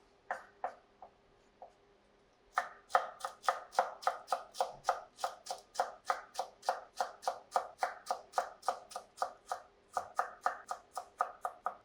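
A knife chops ingredients on a cutting board during Western-style pork chop prep: a few sparse taps, then a long run of rapid, evenly spaced crisp strikes, close and clear, with no talking.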